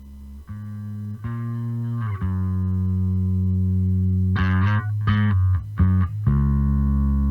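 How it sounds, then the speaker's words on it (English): Clean bass guitar from a Squier Jazz Bass, played alone as sustained low notes that change pitch every second or so, with a brief burst of quicker plucked notes midway, steady and close. "The clean bass here was tracked on, I believe, my Squier jazz bass."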